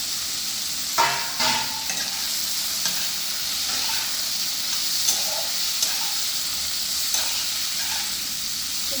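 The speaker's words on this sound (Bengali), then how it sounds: "টমেটোর সাথে সাথে আমি বেগুনগুলোও দিয়ে দিই। বেগুন। ভাজা নিচ্ছি।" Eggplant and tomato sizzle in oil in a pan for a Bengali mixed vegetable curry with cabbage, potato and carrot. A constant close hiss runs throughout, broken by occasional spatula scrapes and stirring knocks, with no talking.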